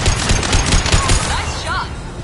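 Rapid gunfire crackles in Mass Effect 2 combat, a dense burst of loud close shots followed by a few fainter pops and electronic whistles.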